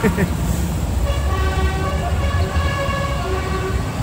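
Dozens of tractors roll past at a farmers' protest in Brussels, a steady engine rumble with repeated horn toots ringing out over it and a voice talking throughout.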